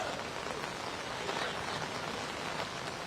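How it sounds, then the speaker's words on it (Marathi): Heavy unseasonal downpour in Pune, a dense, even hiss of rain pattering on surfaces, steady and moderately faint throughout with no voices. "ऋषी, जर माझ्या पाठीमागं बघितलं तर हे मुसळधार पावसाचा फटका जो आहे तो पुणेकरांना बसलेला आहे"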